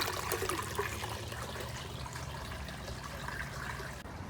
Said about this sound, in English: I filled all of the new taller trays with water to separate all the plants that I'd be pulling out of the pond today